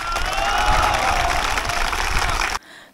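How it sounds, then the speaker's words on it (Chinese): A crowd of reserve soldiers and officials at Keelung High School bursts into loud, sustained applause and cheering to welcome the visiting mayor, clapping steadily for over two seconds before cutting off abruptly. "热烈掌声欢迎谢国良市长莅临会场"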